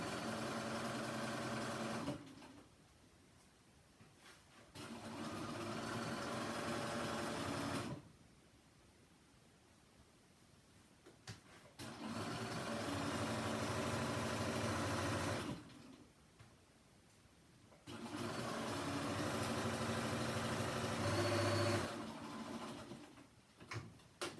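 A sewing machine stitches the seam of a chair cushion cover, running in three steady bursts separated by quiet pauses, with no talking.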